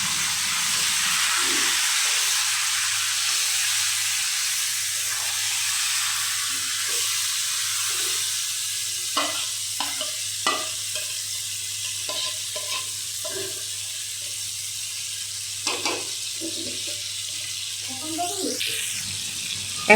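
Marinated duck meat sizzles in a pan with browned onions, a steady frying hiss with scattered scrapes and clacks of stirring, heavier toward the end, while a low hum runs underneath.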